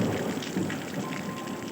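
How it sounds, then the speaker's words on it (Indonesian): Heavy rain pours in a thick, continuous wash with a low rumble of thunder underneath during a night storm, no one speaking over it. "Guntur menggelegar."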